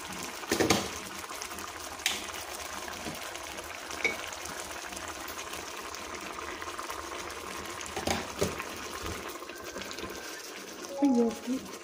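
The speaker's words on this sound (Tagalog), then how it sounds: "so, lalagyan naman natin ng tubig." Water poured into a cooking pan while making ginisang pusit (sautéed squid), with intermittent splashing bursts, soft clinks and a gurgling finish, close by and moderately quiet.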